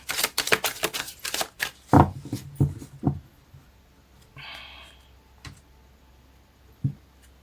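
A deck of cards is cut and shuffled close by, producing a quick run of crisp riffling flicks at the start that gives way to sparse taps and soft handling sounds in a quiet room.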